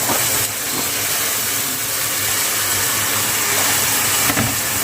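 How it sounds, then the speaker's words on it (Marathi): Chopped cluster beans hitting hot oil fried with spices in a pan, giving a loud, continuous sizzling hiss that holds steady throughout, heard close with no voices. "त्यामध्ये लगेच आपल्याला घालायची आहे ती आपली जी भाजी आपण कापलेली होती ती घालूया."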